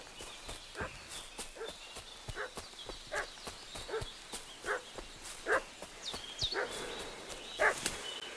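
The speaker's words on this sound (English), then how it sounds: "What's that dog making such a fuss about?" A dog in the video game Kingdom Come: Deliverance 2 barks at a distance, a steady series of moderate woofs over a background of hoofbeats and outdoor ambience.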